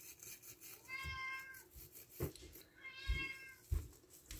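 A domestic cat meows twice, close and fairly soft, each call a drawn-out tonal mew with small handling bumps and rustles between.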